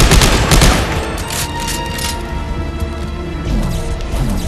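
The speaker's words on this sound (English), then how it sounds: "Oh, I'm getting shot." Rapid gunfire and impacts during a co-op session of the video game Dead Space 3, dense loud bursts at the start easing into a continuous noisy rumble of combat.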